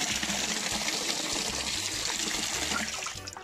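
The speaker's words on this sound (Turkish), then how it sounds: "Deremiz bu şekilde çok güzel akıyor" Clear spring water from a mountain source flows steadily in a stream beside olive groves near Bandırma, a close, continuous gushing and splashing with no talk.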